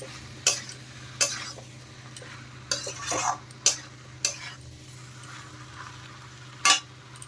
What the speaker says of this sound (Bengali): মশলার সাথে আবার আরেকটু নেড়ে চেড়ে কাঁঠাল আর আলু আমি কষিয়ে নেব